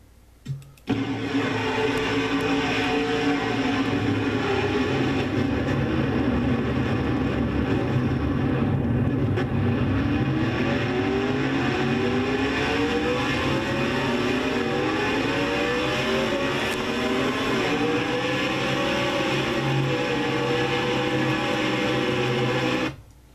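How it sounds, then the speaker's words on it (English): A crashed stock car's engine at the Sylvania 300 in the Castrol GTX Cup Series runs on loud and strained, its pitch wavering and sliding over a long stretch before cutting out abruptly. "You heard Collard's engine slowly dying."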